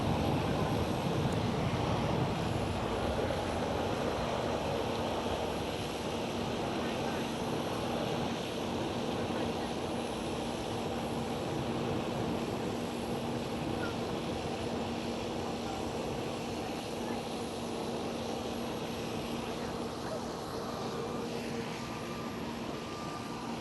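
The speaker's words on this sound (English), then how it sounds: "There goes Delta Airlines A330neo." Delta Airlines Airbus A330neo passing at Amsterdam Schiphol, a continuous distant engine rumble with a faint steady whine, holding at a moderate level without any talk.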